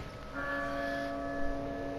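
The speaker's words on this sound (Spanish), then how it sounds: "Y ahí automáticamente le tocamos la campana a Leon" Church bell ringing inside the video game Resident Evil 4, a sustained tolling tone with lingering resonant overtones, steady and moderately loud with no talking over it.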